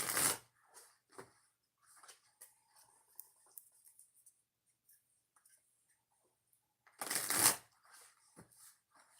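Oracle cards shuffled in short, crisp riffling bursts, with a loud burst at the start and another later, separated by soft clicks and handling noises in a quiet room.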